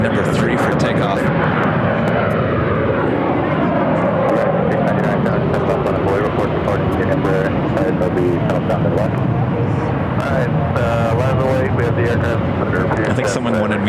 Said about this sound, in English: We have a Frontier A321 heading to Cleveland, Ohio.